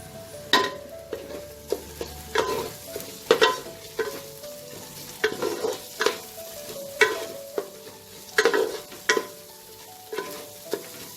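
Slit green chilies frying in a pan with ginger-garlic paste for mutton yakhni pulao, a constant sizzle broken by repeated rhythmic scrapes and clanks of stirring, close up with no talking.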